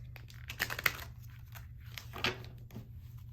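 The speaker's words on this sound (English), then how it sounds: "I just kind of quickly want to shuffle" Tarot cards being shuffled up close, a soft run of papery riffles, flicks and crinkly taps, quiet and irregular with no talking.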